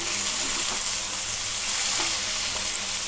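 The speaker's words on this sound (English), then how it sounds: "Fry them all." Cashew nuts fry in a pan alongside tomatoes, giving a steady, close hiss and sizzle throughout with no talking.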